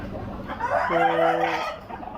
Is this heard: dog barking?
no